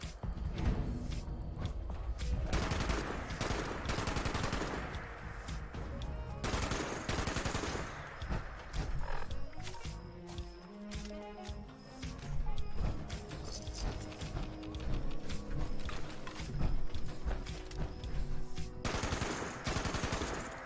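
Rapid automatic gunfire in Fallout 76 rattles in long, dense bursts with brief pauses, loud and close, continuing almost throughout.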